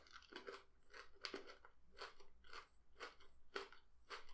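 Someone crunches peanut butter M&Ms two at a time, close to the mic, with a steady run of sharp bites and grinding chews and no talking.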